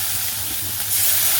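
Onion, green chili and ginger-garlic paste sizzle loudly in a hot pan as a splash of water is added, a steady close hiss that swells toward the end.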